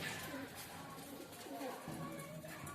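Pigeon cooing softly while held in someone's hands, a few low rolling coos, faint and close, under a voice talking.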